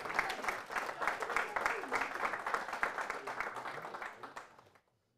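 An audience at a handball award ceremony gives a warm round of applause, dense steady clapping that runs for several seconds and then fades out to silence, with some voices mixed in.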